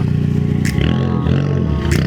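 A Ford Focus ST with an aftermarket exhaust rumbles close by in a garage, a loud, steady low engine drone with brief scrapes and clatter over it.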